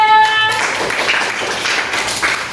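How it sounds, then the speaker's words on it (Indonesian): Classroom applause for a student group about to present, a short burst of scattered clapping from a room of people, close and fairly loud, following a brief tonal sound at the start. "Beri tepuk tangan dan semangat untuk kelompok 3."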